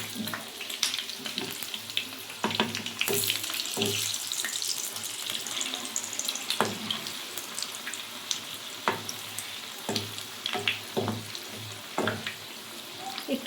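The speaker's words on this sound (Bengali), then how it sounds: "ফ্রাইং প্যানে তেল গরম করে নিয়েছি, এবার আমি এক এক করে ছেড়ে দেব।" Small lentil fritters (musur dal bora) sizzle loudly in hot oil in a frying pan, a continuous crackling hiss broken by sharp spatters and clinks as they are turned.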